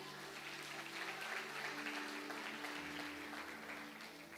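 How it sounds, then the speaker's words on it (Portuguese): A church congregation applauds during a Portuguese-language sermon, a soft, steady wash of clapping held at an even level throughout with a low sustained hum beneath it. "Você pode aplaudir a ele por isso?"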